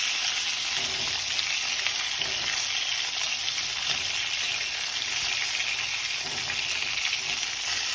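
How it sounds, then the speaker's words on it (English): Pieces of oxtail brown in hot oil in a pot for Jamaican oxtail, a steady close sizzle and crackle continuing throughout with no voices. "now that we browned it a little, we can turn each piece"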